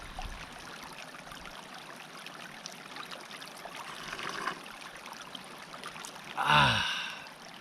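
Glacier meltwater flows in a stream at the base of Mount Hood, a faint, steady trickling hiss heard alone, with a brief breathy gasp near the end.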